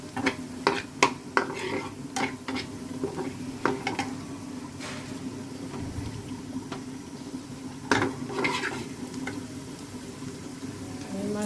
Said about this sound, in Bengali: মোমো বানাবো, সেই জন্য পেঁয়াজ দিয়ে দিলাম।